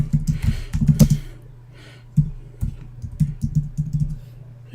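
Brief bursts of keyboard typing at an electronics repair bench, clusters of close clicks with pauses between, over a low steady hum from bench equipment.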